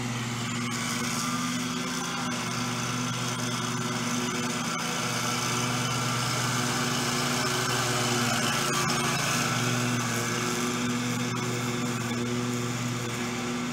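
A stand-up lawn mower runs at a steady drone for the whole stretch, its engine hum constant and fairly close, with no voices over it.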